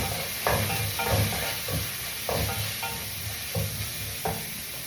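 Onion and garlic sizzle in a hot pan as they are stir-fried, with a constant crackling hiss broken by regular scraping strokes of the spatula, close up and with no voices.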